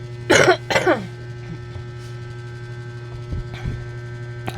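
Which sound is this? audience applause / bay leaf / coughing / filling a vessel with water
coughing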